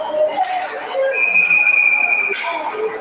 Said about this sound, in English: offsides whistle